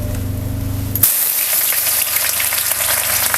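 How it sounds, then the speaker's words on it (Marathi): Sliced onions hit hot oil for an egg biryani, bursting into a loud, steady sizzle after a brief lower hum, crackling continuously and close with no talk. "आता सगळं कांदा घातलेले आहे तर आपण हे चांगलं असं परतून घेऊया"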